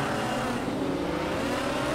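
A race car in Project Cars 2 pulls hard off the start, its engine a steady, dense roar throughout, fairly loud and with no voices over it.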